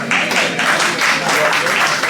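A community audience at an Igbo Union of Canada presentation claps loudly and continuously, with cheering voices rising and falling in waves through the applause.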